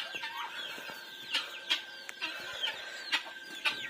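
A small black hen clucks while laying an egg, a near, fairly loud series of sharp rhythmic clucks and squawks in short bursts, heard alone.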